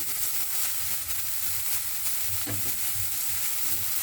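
Curry leaves crackle and sizzle in hot oil in a pan, a steady frying hiss with a few soft pops, close and continuous with no talk, while a cauliflower stem dish is being cooked.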